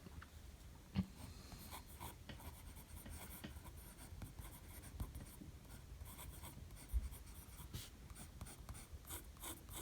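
A broad-nib dip pen loaded with Noodler's 54th Massachusetts fountain pen ink writes wet strokes on a paper sample, making a faint, close, steady scratching with a few small taps.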